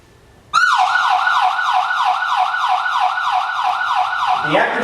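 A SchoolGuard active shooter alarm siren starts abruptly after a short quiet moment, then wails loud and close in a fast, regular up-and-down sweep, repeating evenly until it cuts off.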